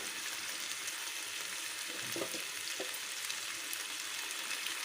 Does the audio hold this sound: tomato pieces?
yes